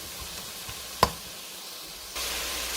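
Shrimp and pineapple fried rice sizzles in a pot with a steady, soft hiss. A single sharp utensil knock lands midway, and the frying grows louder toward the end.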